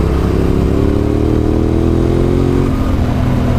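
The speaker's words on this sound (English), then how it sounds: "Listen to that Yamaha." A Yamaha motorcycle engine revs hard and close, a loud continuous roar with rising and falling pitch as the throttle is worked, no voices over it.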